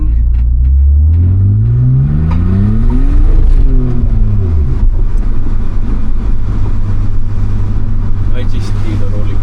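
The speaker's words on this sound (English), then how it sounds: "I just did a rolling burnout" BMW E46 330Ci fitted with a welded differential roars through a rolling burnout, engine revs sweeping up loud and close, then settling into a heavy droning rumble with tire noise.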